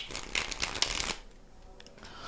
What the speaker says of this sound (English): I've already shuffled them like this, but I'll do it one more time.